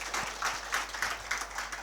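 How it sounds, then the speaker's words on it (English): An audience at a self-development talk gives a round of applause, a faint and fairly distant patter of clapping in soft repeating swells. "Let us give a loud round of applause"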